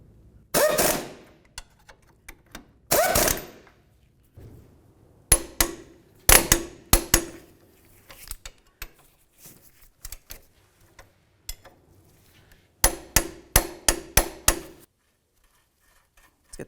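Metal clicks and ratcheting bursts from a wrench tightening front lower control arm mounting nuts on a 2002-2006 Honda CR-V, coming in short repeated clusters with quiet gaps between them, close by.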